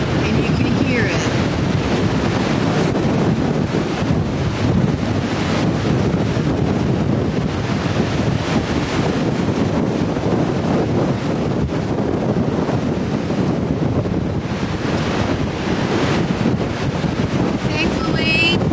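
Strong wind gusts through the limbs of a tree outdoors, a steady, loud roaring rush with rough buffeting against the microphone that continues for the whole stretch.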